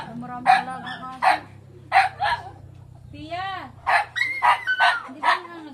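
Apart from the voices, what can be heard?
dogs barking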